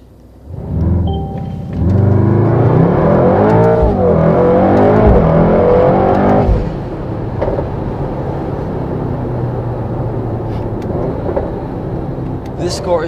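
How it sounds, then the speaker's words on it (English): A 2019 Mercedes-AMG GT 63 S 4-Door Coupe in race mode roars up hard and loud for several seconds during a 0–100 km/h launch, then drops into a steady rumbling drone as it keeps driving. "Let's try the 0 to 100 kilometers an hour in the race mode."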